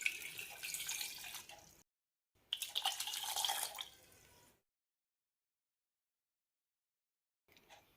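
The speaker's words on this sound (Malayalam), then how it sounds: "ഇതിലേക്ക് 1/2 കപ്പ് വെള്ളം ഒഴിക്കാം." Water poured onto blocks of jaggery in a pan to make jaggery syrup for Kerala neyyappam, a bright splashing pour in two bursts with a short gap, then silence and a faint trickle at the end.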